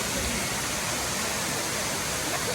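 Edith Falls waterfall, a steady broadband roar of falling water, continuous and even, fairly close with no breaks or voices.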